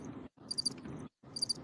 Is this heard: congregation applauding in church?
no